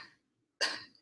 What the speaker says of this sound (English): You can put your hands on your belly, and I want you to cough